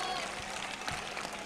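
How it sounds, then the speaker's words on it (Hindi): A crowd at an outdoor Samajwadi Party rally at a chowk in Bhiwandi claps, a brief, dense wash of applause heard at a moderate distance with a voice mixed in. "बहुत बहुत तालियां बजाइए आप लोग"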